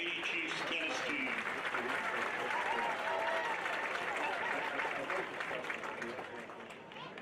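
Crowd applause fills the stands at a high school football game, a steady wash of clapping and cheering that stays loud throughout and tapers slightly near the end, with voices mixed in.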